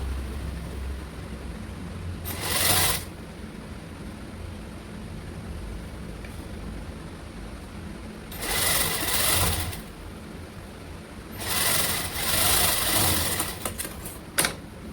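A sewing machine stitching a red lined blouse, three separate loud, close bursts of rapid mechanical whirring, each a second or two long, set apart by quiet pauses with no talking.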